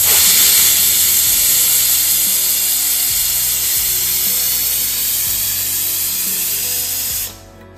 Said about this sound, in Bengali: প্রেশারের দুটো সিটি পড়ে গেছে